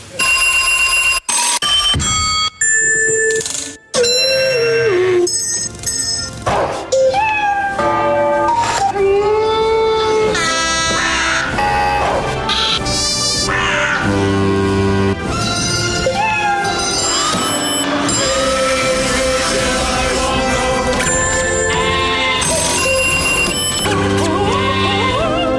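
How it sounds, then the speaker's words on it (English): A string of varied quiz show buzzers on a comedy panel game, bright bells, chimes, tones and electronic alarms, sounds one after another, loud and close with no talking. "the buzzers tonight are as different as ever"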